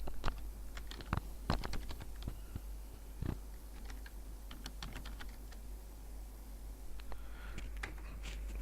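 Close, steady typing on a computer keyboard while working in Microsoft Word, with irregular runs of crisp key clicks and occasional louder taps over a low background hum.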